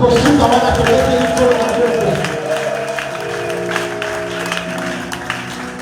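A church congregation applauds the Lord with a dense, sustained clapping that fades somewhat toward the end, mixed with voices and tonal music underneath.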